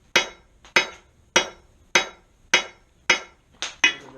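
Hammer blows drawing out hot steel on an anvil while forging a double hook, seven sharp ringing strikes at a steady rhythm about every half second, close and clear, the last two coming quicker.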